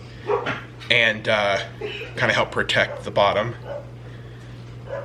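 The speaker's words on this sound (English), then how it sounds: "Sorry about the dogs barking." Dogs bark several times in a quick burst, fairly close, while a person speaks over them in a kitchen during food prep, with a steady appliance hum underneath.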